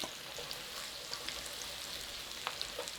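Onions and garlic sautéing in butter and oil for a Guinness shepherd's pie, a quiet, close sizzle with faint scattered pops and crackles over about three seconds.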